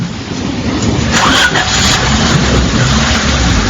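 A car engine starts and runs in a continuous, close rumble with broadband noise throughout, heard alone without talk.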